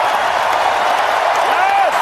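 A packed basketball arena crowd at a Raptors versus Wizards playoff Game 1 roars steadily as fans rise and cheer, a loud, unbroken wash of noise under an announcer's commentary.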